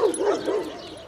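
Dogs bark and whimper during an outdoor walk, a few close, moderately loud yelps rising and falling over about a second.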